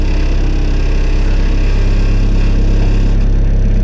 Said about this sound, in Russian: Шумновато то, что мотор здесь